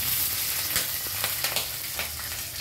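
Green chili sizzles and fries in hot oil for a carrot and eggplant vegetable chutney, a steady close crackle with small pops and the occasional stir, no talking.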